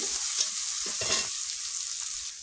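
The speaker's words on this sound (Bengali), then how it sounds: "এই যে কষা হচ্ছে" Onions sautéing in a pan, a steady close hiss of frying with intermittent stirring scrapes and knocks of the spatula.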